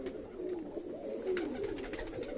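Pigeons in a loft, several large males crowded around a single hen, coo in low, soft, repeated rolling notes close to the listener.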